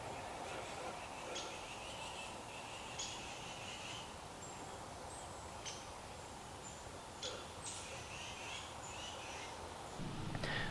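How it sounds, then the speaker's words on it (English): Mixed flock of birds calling high in a highland forest canopy, with many short, thin chirps and whistles scattered throughout over steady ambient forest noise, mostly faint and at a distance. "It's so cool being surrounded by all of these birds."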